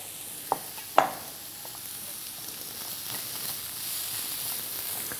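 Vegetables frying in a pan give a faint, soft sizzle that swells slightly toward the end, preceded by two sharp clicks of utensils near the start.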